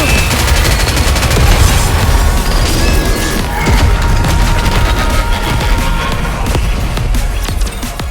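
Continuous, loud gunfire and explosive booms from a battle in the mobile game NIKKE pile up into a dense barrage that barely lets up, with only brief faint voice lines.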